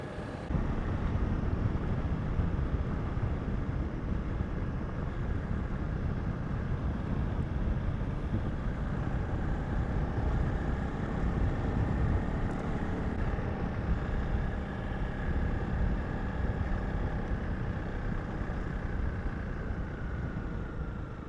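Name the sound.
motorcycle riding on tar road R354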